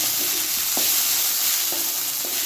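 Broken wheat (dalia) frying in a pan, a loud, even sizzle with a few soft stirring knocks spread through it and no voice.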